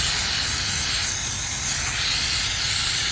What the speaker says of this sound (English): I'm going to use some brake cleaner guys to get rid of some of this oil